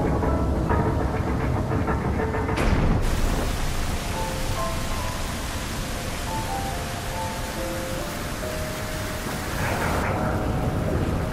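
Heavy rain hisses as a dense, even wash in the video game The Legend of Zelda: Breath of the Wild near the Zora's Domain reservoir. Faint game music tones drift underneath, and the sound runs steadily for about eleven seconds.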